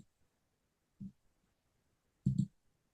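Two separate clicks from a computer mouse while an online account is being created, the first small and the second a louder double click, in a quiet room.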